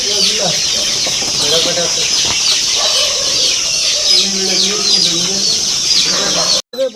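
Several free-range country chickens cluck and squawk close by, overlapping noisily in a busy farmyard, with some background voices mixed in.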